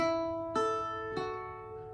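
An Irish bouzouki sounds a group of three plucked notes from Cliffs of Moher, the first already ringing, then two clean attacks at steady intervals, each sustaining and fading, close and alone.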